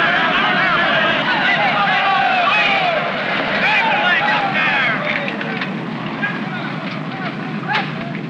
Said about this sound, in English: airplane! Airplane!